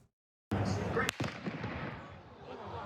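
A fatal targeted shooting, captured as a sudden loud bang out of silence followed by a sharper crack a half-second later, then a decaying rumble of echo and crowd noise with voices.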